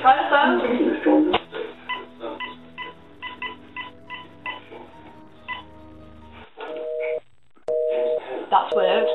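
A telephone line gives a run of dialing tones and beeps, rhythmic tonal pulses followed by longer steady tones near the end, with voices talking over parts of it.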